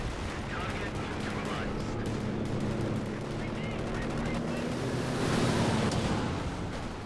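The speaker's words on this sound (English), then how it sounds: "Oh, Katusha." Katyusha rocket artillery fires in Company of Heroes 2 as a dense, continuous rushing salvo of rapid launches and explosions under battlefield noise, swelling louder near the end.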